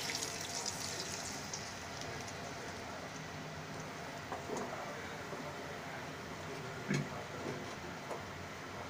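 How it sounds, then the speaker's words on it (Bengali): Hot spice tempering poured over cooked vegetables, giving a steady, dense sizzle and crackle that holds evenly throughout, with a few small pops. "এখন আমি এই ফোড়নটা নিরামিষের উপরে ঢেলে দিচ্ছি।"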